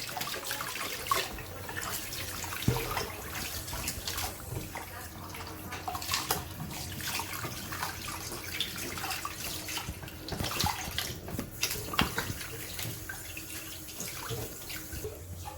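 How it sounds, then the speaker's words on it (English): Water from a tap runs steadily over pork ribs being washed in a sink, a continuous close splashing and gurgling with irregular spatters and drips as the meat is handled. "I'm gonna be washing the ribs."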